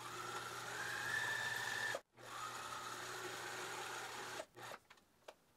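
Sewing machine stitching an elastic hair band, a close steady mechanical whirring hum that pauses briefly, resumes, then stops with a few quick clicks.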